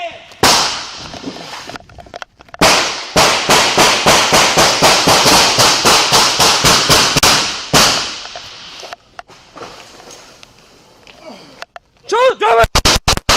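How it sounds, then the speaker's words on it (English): Gunshots go off inside a liquor store during a police confrontation, with sharp loud reports in a long rapid volley, then scattered shots and shouting officers. "Shots fired! Shots fired!"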